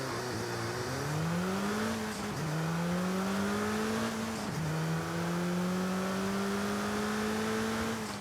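A 2017 Alpine A110 engine in Forza Horizon 5 accelerating through gears, a loud close steady engine tone climbing in pitch with two distinct gear-shift dips, alone without talk.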